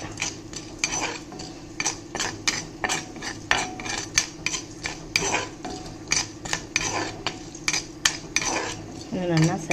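Chana dal dry roasting in a pan, rapid repeated metallic scraping and clinking of a spoon as the lentils are stirred and tossed, close and busy throughout, with no talking.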